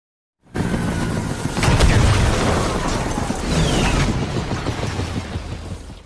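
Nuclear explosion over Las Vegas in the zombie film Army of the Dead, a sudden loud boom swelling into a long, dense rumbling roar with crackling debris that stays heavy to the end.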